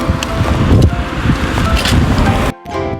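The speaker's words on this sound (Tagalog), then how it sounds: "Grabe, ang sarap ng hangin. Ang lakas." Heavy wind buffets the microphone in a loud, rumbling rush that cuts off abruptly near the end.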